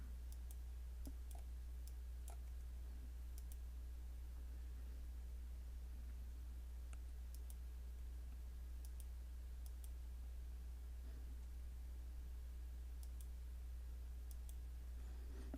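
Quiet computer mouse clicks while deleting items, a handful of faint, sharp ticks spaced irregularly over a low steady hum, with no talking.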